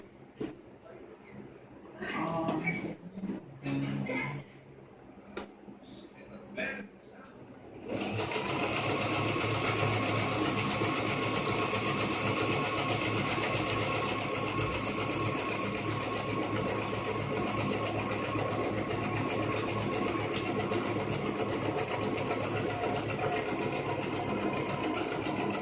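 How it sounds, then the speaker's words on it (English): A sewing machine runs gathering stitches on a dress, a steady loud whirring drone close by, preceded by a few seconds of quiet talking and handling noise. "And we're doing the gathering stitches"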